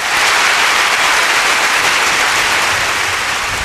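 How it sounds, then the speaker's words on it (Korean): Steady, dense applause from a youth concert audience in Buan, North Jeolla, welcoming a speaker to the stage, loud and sustained throughout with no voices over it. "김주윤 멘토의 강연 큰 박수로 시작하겠습니다."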